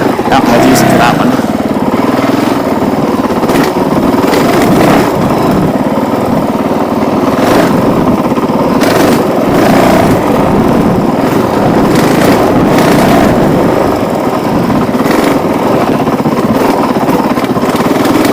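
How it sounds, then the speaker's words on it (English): A Honda CRF450L motorcycle engine runs loud and close at a raised idle while riding a trail, a steady buzzing drone with small rises and dips, with someone talking over it. "The idle is set high enough that I can actually follow these trails a lot of times without touching the clutch."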